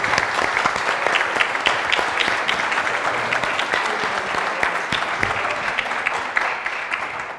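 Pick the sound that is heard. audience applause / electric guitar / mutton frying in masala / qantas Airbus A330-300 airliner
audience applause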